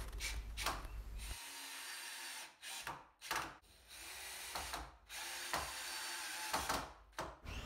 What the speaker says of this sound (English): I clamped them all together and drove in some screws from the edge.